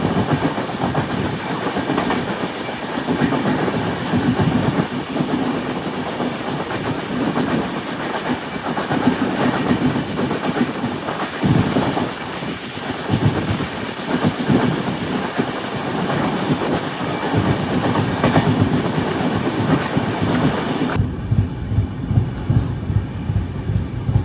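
A 22114 LTT Superfast train runs its Ernakulam to Goa route, heard from a sleeper class coach. A loud, continuous rumble carries a rhythmic clickety-clack of wheels over rail joints, and the sound drops away sharply near the end.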